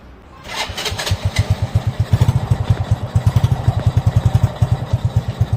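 A motorcycle engine, just treated with carbon cleaner, cranks and fires, then settles into a loud, steady, rhythmic idle putter close by.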